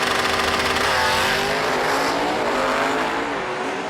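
Drag race at a strip between a Chevelle and a Pontiac GTO: loud, sustained roar of engines with rising harmonic whine, steady throughout and then easing slightly toward the end.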